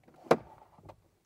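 Motorized Westin Pro-E running boards on a 2023 Jeep move with the door: a sharp mechanical clunk, then a brief whirring motor sound and a softer second thunk, all quiet and close.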